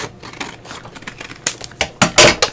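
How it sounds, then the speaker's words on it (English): Scissors snip through fabric while trimming an embossed fabric piece for a journal, a few crisp close cuts near the end following softer handling rustles. "I'm going to get my scissors"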